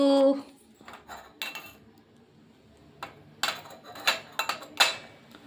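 Plates clatter and clink on a kitchen plate stand in a home, with sharp, close rattles: one at the start, then a cluster of separate knocks toward the end.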